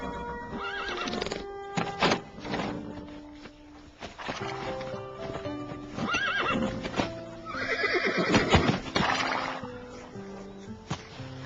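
Horse neighing and whinnying repeatedly with a clip-clop of hooves, a loud, close whinny rising in the middle and another long neigh near the end, in an animated farm scene with no talking.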